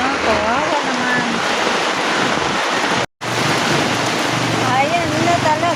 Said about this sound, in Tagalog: Ayan na talaga. Ulan, ayan na.